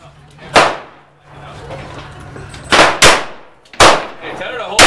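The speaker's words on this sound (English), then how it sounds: "shooting the Girsan M1911 for the first time" Shots from a Girsan M1911 pistol at an outdoor range: four loud, sharp reports, one early and then three close together near the end, each followed by a brief echoing tail over faint background noise.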